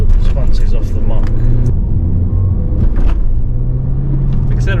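Honda Civic MK8 with a 1.8L VTEC engine and an ECU boost increase device, heard from inside as a loud, steady engine rumble pulling away from a stop, with a driver talking over it.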